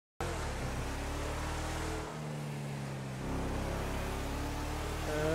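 A new car accelerating in GTA, the engine droning steadily, dipping briefly, then climbing in pitch as it speeds up, loud and close with no talking.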